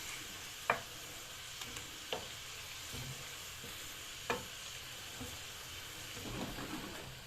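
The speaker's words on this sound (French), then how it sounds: "on laisse revenir la viande dans le vin blanc pendant 2 petites minutes à peu près" Escalope meat cooking in white wine in a pan, a faint steady bubbling sizzle with a few sharp utensil taps against the pan, no voices.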